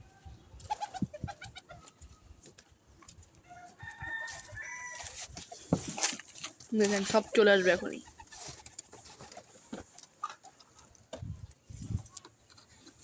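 Pigeons kept at home call and coo at midday while waiting to be fed, a mix of close bird calls rising in a busy burst midway, with someone speaking briefly over them.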